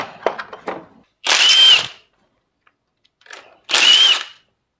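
Two short, loud bursts of a power tool spin a 12mm 12-point socket on turbo bolts, separated by a quiet pause, with a few faint clicks and knocks of handling before and between.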